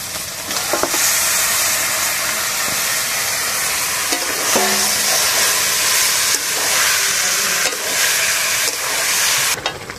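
Chicken pieces hit hot oil and curry masala in a pan for a Bengali-style chicken curry, giving a loud, continuous, close sizzle with occasional stirring clinks and scrapes.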